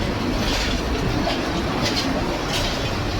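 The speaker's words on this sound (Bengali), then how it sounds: "দুই নং প্ল্যাটফর্ম থেকে ছেড়ে যাচ্ছে ঢাকা থেকে ছেড়ে আসা দেওয়ানগঞ্জ বাজার অভিমুখে আন্তনগর তিস্তা এক্সপ্রেস" An intercity express train departs Gafargaon railway station, rumbling steadily and loudly nearby, with a rhythmic clatter of wheels on the rails and a continuous roar throughout.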